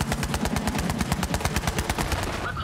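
Vehicle-mounted turret in the video game Borderlands 3 firing a loud, continuous rapid burst, evenly spaced heavy shots hammering on for the whole stretch before cutting off at the end.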